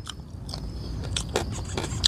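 Hard little locust bones crunched and bitten while eating pakbet, a series of sharp, close crackling bites spread over a couple of seconds, no talking.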